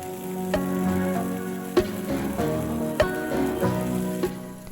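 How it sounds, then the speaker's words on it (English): Leftover rice noodles frying in a hot skillet with cabbage give a steady crackling sizzle, with a few sharp pops and clatters over a low background hum. "I got out those leftover rice noodles from yesterday and added them to the skillet."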